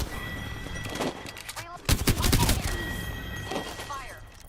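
Bursts of rapid gunfire in a shooter video game, with loud overlapping shots peaking midway against a steady electronic hum, and scattered game voice lines running underneath.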